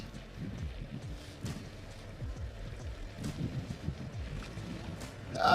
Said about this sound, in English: here's a piece of water in front of me. Now this Scorpio-N's wading depth is 500 millimeters, so let's test it